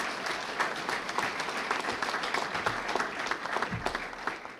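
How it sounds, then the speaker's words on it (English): Audience applause at a groundbreaking ceremony for a building, steady dense clapping from a crowd sustained throughout at moderate level. "So let's give those citizens a round of applause."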